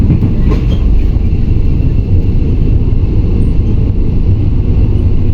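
Passenger train 38/46 running on rails between Phatthalung and Surat Thani, heard from aboard the dining car as a loud, steady low rumble of wheels and carriage noise that continues unbroken throughout.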